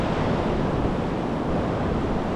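Wind and surf roar steadily on an open sand beach, a dense continuous wash of breaking waves and gusting air close to the microphone with no voices.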